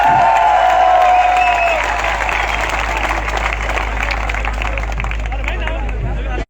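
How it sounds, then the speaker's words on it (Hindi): A crowd claps steadily and loudly for several seconds, with chatter and a voice over the applause before it stops abruptly. "जोरदार ताली से स्वागत किया जाए"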